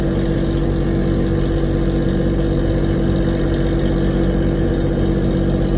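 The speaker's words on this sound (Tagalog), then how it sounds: "Bagal lumatras ni Roro Master. Single engine kasi yan, naka-single engine at sirang isang makina niyan." A RoRo ship reverses slowly from the ramp at Dangay Roxas Port on a single engine, its other engine broken, giving a loud, constant, unbroken mechanical drone throughout.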